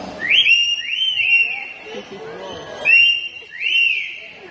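A parrot mimics a ringing telephone with repeated high, warbling trill bursts in two pairs, fairly loud and close, with faint background noise.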